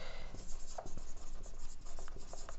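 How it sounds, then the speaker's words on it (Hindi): Chalk or marker writing on a board during a chemistry lecture: continuous scratchy strokes with short taps, fairly close, and no speech. "तो चलिए इसको हम लिखते हैं दोस्त, इसको हम लिखते हैं, लिखिए।"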